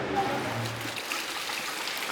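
Water runs steadily in a continuous, moderately loud rush, with a brief low murmur near the start and no clear words.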